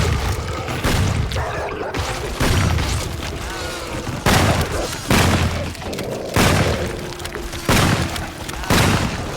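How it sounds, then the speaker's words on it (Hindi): A volley of gunshots in an animated horror story about Dracula, with repeated loud booming shots at irregular intervals, some followed by shattering crashes, sounding close and forceful. "गोली चलाओ।"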